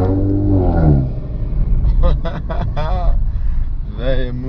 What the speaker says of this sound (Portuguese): Abri o escape. Nossa, parece que é mais alto